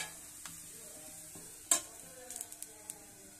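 Arbi (taro) pieces sautéed in a pan make a faint, low sizzle, broken by a sharp spatula knock and a few light scraping clicks as the pieces are stirred.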